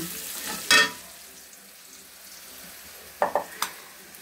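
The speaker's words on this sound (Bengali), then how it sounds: "এ তো ভেন্ডির জন্য পেঁয়াজ ভেজে নিলাম।" Onions frying in a pan for an okra stir-fry, a faint soft sizzle with a sharp scrape of stirring near the start and a few light utensil clinks toward the end.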